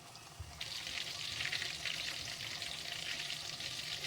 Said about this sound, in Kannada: ತುಂಬ ಹೈ ಫ್ಲೇಮು ಅಲ್ಲ ಮತ್ತು ತುಂಬ ಲೋ ಫ್ಲೇಮು ಅಲ್ಲ, ನಾರ್ಮಲ್ ಫ್ಲೇಮಲ್ಲಿ ಇಟ್ಕೊಂಡೆ ಇದನ್ನು ಫ್ರೈ ಮಾಡ್ಕೋಬೇಕು.